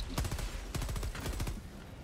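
Rapid bursts of gunfire from the Helldivers 2 video game crackle in quick volleys, fairly faint and somewhat distant.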